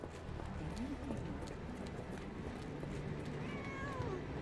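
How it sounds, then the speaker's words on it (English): Faint meows from a cat in the Sherlock Holmes: The Awakened video game sit over a steady, hissy background with soft game ambience. "Meow."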